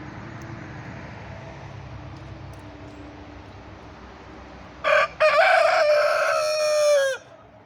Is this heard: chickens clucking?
yes